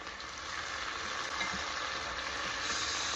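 Onions fry for a lamb chop biryani, a steady close sizzle with faint stirring scrapes and no break.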